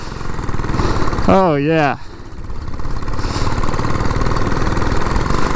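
A vintage 1947 Whizzer Model H motorized bicycle engine runs steadily throughout, a close, loud, buzzing putter that continues under a brief excited voice.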